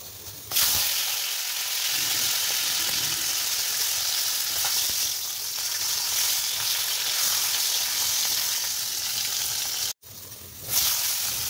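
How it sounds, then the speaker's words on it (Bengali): Potatoes frying in a generous amount of oil in a pan, a steady close sizzle and hiss running throughout, with a brief break near the end before it resumes. "আলুগুলোকে একটু ভেজে নিচ্ছি"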